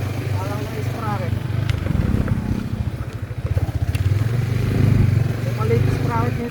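A motorcycle with a small rear sprocket runs steadily while riding uphill on a mountain road, its engine droning loud and close with a rough, pulsing throb that rises and falls throughout.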